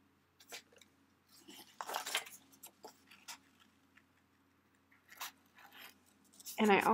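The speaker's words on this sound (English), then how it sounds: "it's kind of a pain, but cutting it out by hand" Hand scissors snipping out a small stamped paper piece for a craft project, with irregular close crisp cuts and paper rustle spread across the moment, growing louder at the end.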